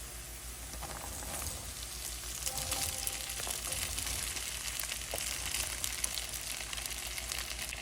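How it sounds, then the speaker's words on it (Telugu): Soaked sago being added to onion and potato frying in a pan, giving a soft, continuous crackling sizzle at moderate level with scattered faint pops. "ఇప్పుడు ఇందాక నేను నానబెట్టుకున్న సగ్గుబియ్యం వేస్తున్నాను."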